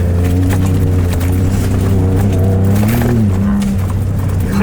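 A 2018 Ford Raptor pickup driven hard off-road through a corkscrew section, its engine a loud, close, steady drone that rises and shifts in pitch around the midpoint before settling, with faint rattles over it.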